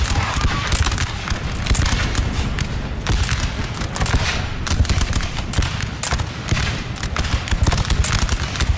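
Dense, continuous volleys of musket fire crackle across a Napoleonic battlefield as troops shoot at retreating forces in Napoleon: Total War, loud and sustained with overlapping shots and no clear pauses.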